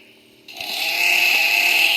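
A chainsaw in a Roblox chainsaw man game mode starts abruptly after a brief quiet and settles into a loud, steady high-pitched buzzing whine.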